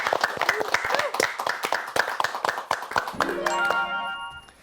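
Audience applause with scattered clapping greets a Catholic priest being introduced on a senior lecture TV program, a steady burst of hands that fades as a soft chime and electronic tones enter near the end.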